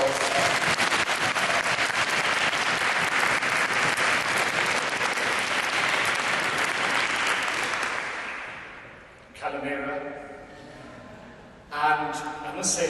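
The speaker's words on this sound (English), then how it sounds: "Can we give a round of applause?" A debate audience at the World Schools Debating Championship quarterfinal claps loudly and steadily for about eight seconds. The applause then fades, and a voice speaks over a quieter room.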